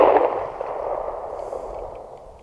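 A PSA Dagger pistol firing at an outdoor range from just under 18 yards, a single sharp report that rings out and decays over a couple of seconds.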